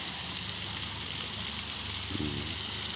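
Steady broadband rush of a waterfall near an old Spanish-era church, a constant gushing wash with no pauses or talk, with a faint low hum partway through.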